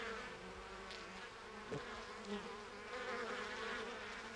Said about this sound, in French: D'autres surveillent et contrôlent la température de la ruche en battant des ailes pour créer un courant d'air.